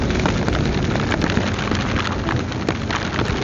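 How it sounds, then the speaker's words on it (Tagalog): Heavy rain pours down steadily at Chaong, Quezon, a dense, loud, continuous hiss of drops drumming on surfaces with flooding beginning, no voices over it. "ang lakas ng ulan, medyo bumabaha na"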